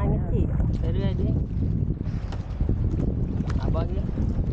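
Wind buffeting a boat out at sea: a continuous, rough roar of wind noise with water rumble beneath, while people talk over it throughout.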